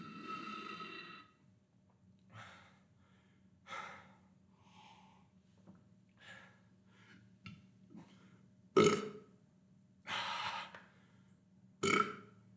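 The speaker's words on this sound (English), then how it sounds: "usually I'll end up burping because I'm doing a lot more heavy breathing when I start putting weight on the squat rack" Several loud, abrupt burps from a man breathing heavily while squatting with weight on a rack, spaced between gasps and snorting breaths over a low steady hum, with no talking.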